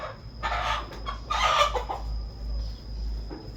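Chickens around a mother hen cluck and call in short overlapping bursts, close and moderately loud, over a low steady hum with a thin constant whine.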